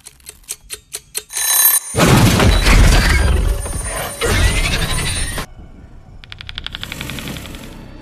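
A series of sharp, rapid alarm-clock ringing bursts, then loud booming crashes, then a faster buzzing ring returns toward the end.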